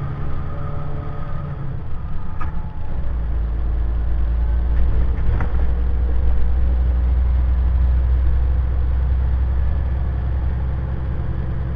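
New pickup truck driving on a road, a steady low engine hum with tire and road rumble that swells slightly midway, one brief knock near the middle, no talk.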